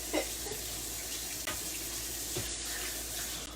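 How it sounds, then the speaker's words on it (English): A spoon is rinsed under a running kitchen tap, a steady, close splashing hiss of water with small clinks and shifts in the stream and no talking. "then I'm going to rinse my spoon"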